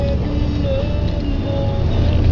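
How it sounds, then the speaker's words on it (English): A car engine idles fast on a cold start as the vehicle leaves a garage, a steady low rumble that runs continuously throughout at moderate volume. "It's just idling fast because it's cold."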